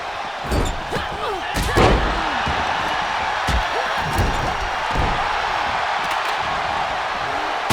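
A kendo stick striking a wrestler in WWE 2K24 during an NXT Great American Bash ladder match, sharp slams and thuds over a constant arena crowd roar.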